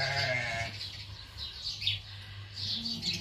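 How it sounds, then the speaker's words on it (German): A small mixed flock of five sheep and three goats bleats nearby, with one wavering call at the start followed by scattered quieter cries and bird-like chirps over a low background hum. "5 Schafe und 3 Ziegen, 8 Viecher."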